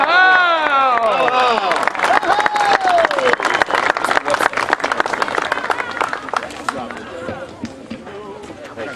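Crowd at a fire ceremony gives a big shout, voices rising and whooping, then breaks into loud, dense applause with cheering that slowly thins.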